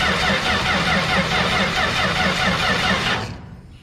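A swather's engine starter cranks steadily in a fast, even chugging rhythm for about three seconds without catching, then cuts off abruptly into near silence.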